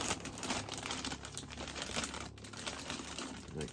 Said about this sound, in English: Let's pull him out of the plastic.